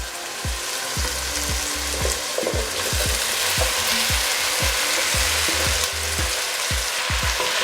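A spatula stirs lentil stew with potato and buttered zucchini in a pot, making steady rhythmic scraping strokes over a loud, continuous sizzle.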